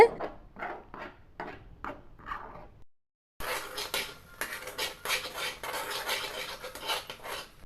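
Coconut and sugar laddu mixture stirred in a pan, first several separate rhythmic scrapes, then after a brief gap a denser stretch of continuous scraping and clinking of the spoon against the pan.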